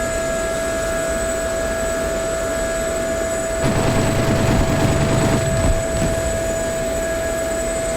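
A Gazelle helicopter flying in the DCS World flight simulator gives a steady droning turbine whine and rotor hum. It swells into a louder, rougher roar for about two seconds midway, then settles back to the even drone. No one talks.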